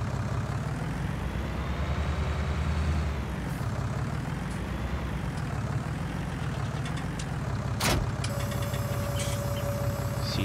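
A steady, loud Fendt 800 Favorit tractor engine drone in Landwirtschafts-Simulator 19, with a constant low rumble and whirring fan tone, running continuously with a brief sharp click near the end.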